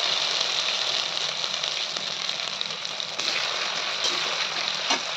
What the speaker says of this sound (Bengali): আদা রসুন দিয়ে ভালো করে নাড়িয়ে নেবো